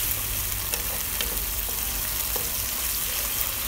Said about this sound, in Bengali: এই তো ভালো করে ভেজে নিই